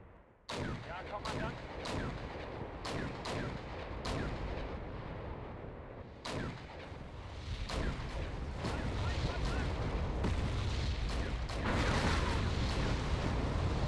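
Sharp repeated gunshots and heavy artillery blasts from the battlefield of Wargame: European Escalation crack at irregular intervals over a rumbling, building roar of combat, with someone talking over it.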